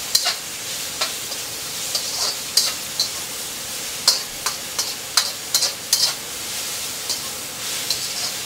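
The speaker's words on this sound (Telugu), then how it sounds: "దాని తర్వాత ఆనియన్, క్యాప్సికమ్, బ్రోకోలీ అన్నీ వేసేసి ఫ్రై చేస్తున్నారు" Onion, capsicum and broccoli stir-fried in a pan for veg rice noodles, a steady hiss of sizzling broken by repeated sharp scraping and tossing clicks from the spatula.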